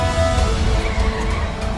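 Car engine roaring at speed during a chase in a Hindi film, loud and steady with a hint of tire skid throughout, no talk.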